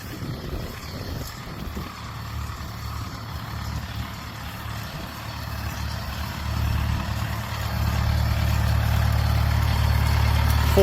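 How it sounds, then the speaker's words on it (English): An engine-driven irrigation pump feeding 4-inch aluminum pipe runs with a steady low mechanical drone, its rumble swelling louder and fuller partway through and holding to the end. "This is our pump."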